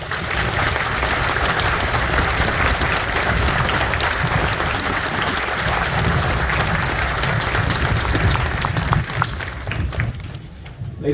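Sustained, loud applause from a large crowd honoring the crew at the decommissioning ceremony of the USS Hue City (CG-66) on a naval station pier, a dense, steady clapping that continues for about ten seconds before thinning out.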